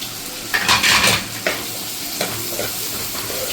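Chopped tomato, green chilli and onion frying with soya chunks in a hot pan, with a couple of brief louder bursts of sizzling and stirring early on, then a steady quieter hiss.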